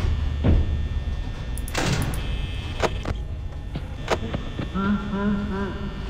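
Security-office doors in the Five Nights at Freddy's video game close with several sharp mechanical clunks and slides, spaced apart over a low game-ambience hum, followed by a brief rising electronic tone.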